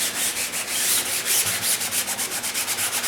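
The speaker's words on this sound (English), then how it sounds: "you sand just on the tape edges first" Hand sanding of an EkoFill fabric filler coat along the tape edges of a fabric-covered surface, a steady close scratchy rubbing with rhythmic back-and-forth strokes and no talking.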